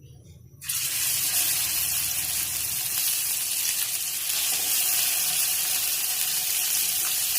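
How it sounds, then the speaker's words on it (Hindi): Shami kababs, beef patties, dropped one by one into hot oil in a frying pan, bursting into a loud, steady broadband sizzle right after a brief quiet start, continuing without talk. "अब हमारा ऑयल गरम हो गया, हम एक एक करके इसमें कबाब डालेंगे"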